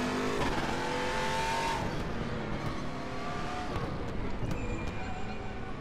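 An Aquila CR1 Sports GT race car engine in RaceRoom, on a bumpy track: steady close engine drone with rising pitch sweeps as it accelerates through the gears and some brief sharp shift clicks.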